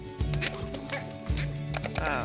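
Stony hen clucking in Slime Rancher, a few quick low clucks repeating over busy game sounds and music, close and fairly loud.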